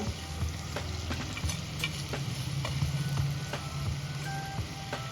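Spices and grated coconut sautéed in a pan for shev bhaji: a continuous close sizzle with occasional spatula scrapes and light clinks, steady in level throughout.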